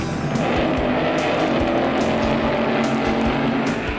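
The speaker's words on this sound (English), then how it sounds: "The supercharged gas dragster, Greg Gibson, White Plains, New York." A supercharged gas dragster at a 1966–1968 NHRA Nationals drag strip roars continuously and loudly, a harsh, dense engine blast with no pauses.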